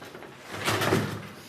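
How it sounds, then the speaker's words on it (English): A brief scraping, rushing sound like a door being pushed open, rising and fading within about a second. "The door opens a little easier this time around."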